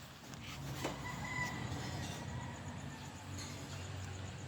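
Chickens cluck softly in the background of an outdoor yard, faint and somewhat distant over low ambient noise.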